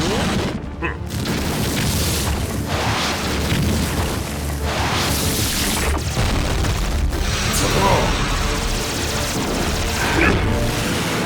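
Cartoon robot weapon effects from a Hello Carbot battle: repeated booming blasts and bursting shots fire in quick succession under excited animated voices, loud and dense throughout.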